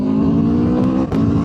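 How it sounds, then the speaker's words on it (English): An Aprilia RSV4 1100 Factory motorcycle engine idles loud and close under a light blip of throttle, a steady growling drone with a brief dip and lift near the end. "I'm literally just tickling the throttle there"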